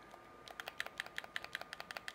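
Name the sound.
computer keyboard keys being pressed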